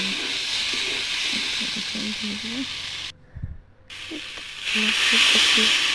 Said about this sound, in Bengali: অল্প দিয়ে অল্পটি দিয়ে মশলাগুলো এখন জল দিয়ে দিলাম